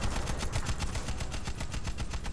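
Rapid automatic gunfire from allied players in the shooter game Warface rattles continuously in quick bursts, loud and close, with no talking.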